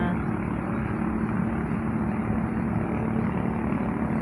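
Speedboat engines on a river by a park, a steady loud low droning rumble that holds through the whole stretch without a break, with no talk over it.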